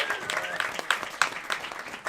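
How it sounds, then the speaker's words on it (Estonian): A comedy show audience applauds, a dense patter of clapping with a few sharper claps standing out, moderately loud and without talk. "Teeme endale aplausi, et te välja tulite, yes!"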